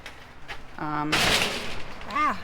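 A door on a small Palram 4x6 greenhouse that needs repair is kicked open: one loud, sharp bang and rattle in the middle, with a voice speaking briefly before and after.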